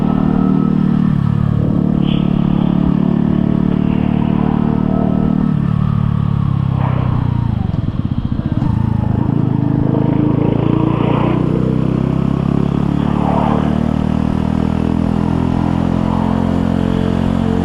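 A Mutt Fat Sabbath motorcycle engine drones loudly and continuously while riding, a deep rumbling note that rises and falls gently with the throttle, heard close up with wind noise around it.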